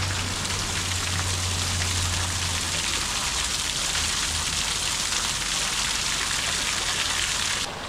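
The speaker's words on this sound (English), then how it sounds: "Some type of water runoff" Water runoff pouring steadily at an abandoned Civil War era mill, a continuous broadband rush and patter close by, unbroken throughout with no voices.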